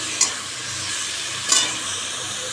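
Potato and papaya dalna stir-frying in a large kadai with ground cumin, a steady soft sizzle broken by two brief scraping stirs, close and alone.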